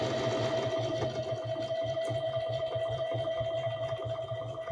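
A Bernette Academy 05 sewing machine stitching at its slow speed setting gives a steady, even mechanical hum with a fast regular needle rhythm, close and continuous, without speech.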